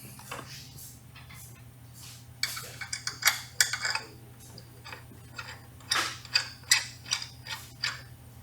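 A shoulder bolt is tightened on a reverse bucket part for a Seadoo-powered mini jet boat, giving a series of small, close metallic clicks and ratcheting ticks over a low steady hum.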